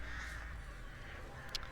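Crows caw in the Dead by Daylight game, the birds belonging to the Artist killer; a soft, steady cawing drone holds for under two seconds, with a brief sharper accent near the end.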